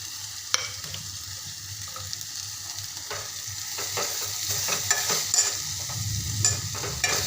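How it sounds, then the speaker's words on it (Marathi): Finely chopped capsicum sautés in a hot pan for a Maharashtrian tiffin bhaji, a steady sizzle with occasional stirring scrapes and clicks, growing a little louder toward the end, with no voices. "मी छान अशी बारीक शिमला मिरची चिरून घेतली आहे ती सोडत आहे"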